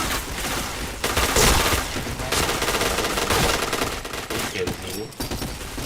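Loud, dense gunfire fills a shooting video game, with rapid automatic bursts and overlapping shots running almost nonstop, and a voice faintly under the barrage.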